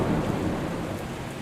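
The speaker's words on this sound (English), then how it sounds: "An unexpected thunderstorm kept most of us awake." Thunderstorm at night over a boat lying at anchor near Fair Isle, with steady heavy rain drumming and low rolling thunder filling the whole stretch, loud and continuous with no pauses.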